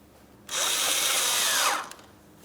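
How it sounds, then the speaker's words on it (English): A power tool tightens an 8mm-headed hose clamp on the thermostat housing of a 2003-2007 Cadillac CTS 3.6L V6, giving one close, bright whirring burst of just over a second that starts and stops abruptly, with no talking. "continue on with tightening your 8mm headed clamp"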